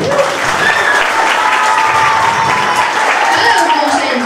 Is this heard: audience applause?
yes